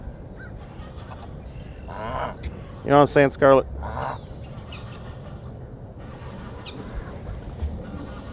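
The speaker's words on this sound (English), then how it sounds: "There's some geese over there being just very angry about life." Several geese honk in a short, harsh burst of three or four loud calls, close by and agitated, with softer bird calls around them and someone talking over parts of it.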